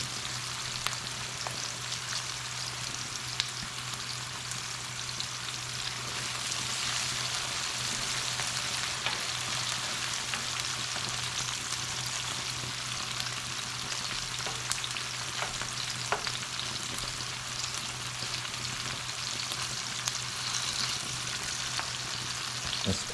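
Squash fries in a pan with a steady, soft sizzle and crackle, occasional stirring clinks, close but fairly quiet and continuous, with no talking.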